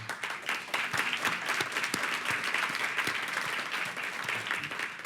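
Guests at a Bauhaus opening dinner and discussion clap in a steady, moderately loud round of applause lasting the full stretch, with a few sharper individual claps standing out.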